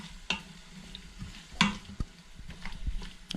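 Beef broth and water simmer in a hot Instant Pot pan while a utensil stirs it, bringing several distinct scraping knocks over a continuous sizzle.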